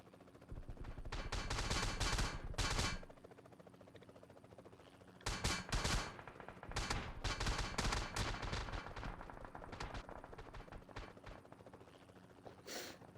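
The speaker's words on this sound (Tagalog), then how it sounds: "Ayun, may helicopter." Bursts of rapid gunfire crackle in a video game firefight, loud dense volleys separated by a brief lull. No helicopter stands out clearly against the shooting.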